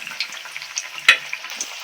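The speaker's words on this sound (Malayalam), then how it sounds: "ഇങ്ങനെ പൊരിച്ച് രണ്ട് സൈഡ് ഒരു ഗോൾഡൻ കളർ ആകുമ്പോഴത്തേന് കൊരിയെടുക്കണം" Green plantain bajji fritters deep-frying in hot oil, a steady close crackling sizzle with one sharper pop partway through and no voices.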